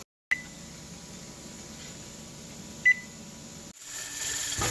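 A kitchen timer on a stovetop canning setup sounds two short, faint beeps a few seconds apart over a steady low hum, followed by a rise in broadband noise near the end.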